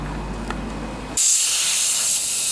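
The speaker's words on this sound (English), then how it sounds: "Spray up around the carburetor here." Aerosol spray aimed around the carburetor of a Craftsman LT1000 riding lawnmower that had sat unused in a barn, a sudden close, loud, steady hiss that cuts in after a low rumble and holds to the end.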